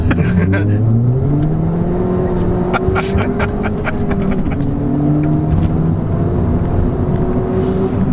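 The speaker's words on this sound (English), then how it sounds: "Let's see if we can break the tires just a little bit." Ford Fiesta ST Stage 3 accelerating hard with wheelspin, its engine droning loudly and climbing steadily in pitch with a brief shift dip, heard from inside the cabin along with road roar and voices talking.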